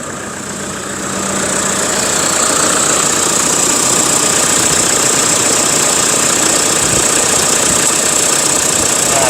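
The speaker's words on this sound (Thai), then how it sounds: "ฟังเสียงเครื่องกันครับ" A Toyota Vigo pickup's engine idles steadily and loudly, a continuous rumbling drone with a faint knocking texture, rising slightly at the start then holding even.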